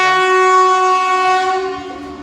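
A loud train horn blares in one long steady tone, gradually fading toward the end, with no voices, as a train arrives at Derol station.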